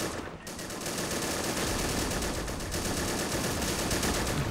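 Sustained automatic gunfire from a WWII battle in Flags of Our Fathers with the RobZ Realism Mod, dense overlapping bursts and rattling shots filling the whole stretch at steady loudness, with no talk.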